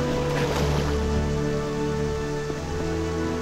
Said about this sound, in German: Also, hier ist ein Fluss